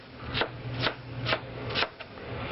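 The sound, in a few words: knife cutting celery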